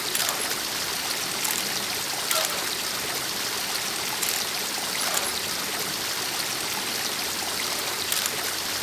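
Water trickles and flows steadily in a stream in Mystery Case Files, a constant bright babbling with faint dripping accents throughout, close and alone.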